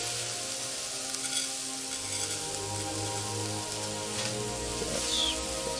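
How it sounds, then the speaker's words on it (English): Rice toasting in a hot pan with mushrooms, a steady broadband sizzle and crackle that carries on without a break, close and even, with a few faint clinks and stirring sounds and no talking. "we want to do something called toasting the rice"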